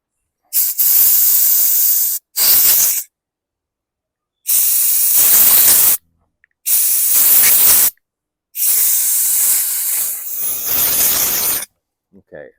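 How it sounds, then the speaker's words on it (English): Compressed air blasts into the vent hole of a 2010 Poulan Pro lawn mower fuel cap in five loud, sharp hissing bursts of one to two seconds each, separated by short silences. "I like to blast compressed air in there."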